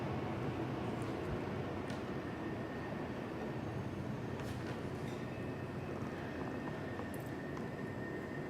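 A train passes near a city council meeting. Its broad, steady rumble fills the whole stretch at an even level, with faint clanks and squeals now and then, somewhat distant, and no speech.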